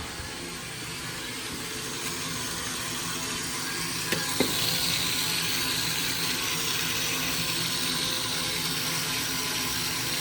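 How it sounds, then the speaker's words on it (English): Water rushes steadily out of a pipe in a continuous loud hiss, with a faint clank partway through. "you hear that water coming out"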